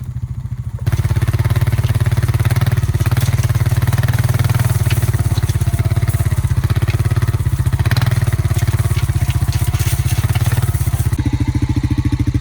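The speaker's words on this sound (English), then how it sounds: "Let's drag the ATV drag here across this and see what it looks like." An ATV drags a 4' x 5' drag harrow across a rutted, uneven deer food plot. Its engine drones loud and steady for about ten seconds, quieter at the very start and end, with faint clatter and no talk.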